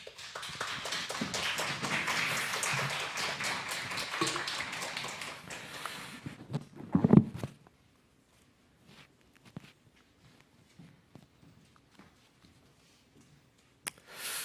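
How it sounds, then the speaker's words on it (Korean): Applause welcoming a pastor to the pulpit during a Sunday church service, a broad, steady wash of many hands for about seven seconds that then breaks off into quiet with a few scattered claps and small noises. "큰 박수로 환영하도록 하겠습니다"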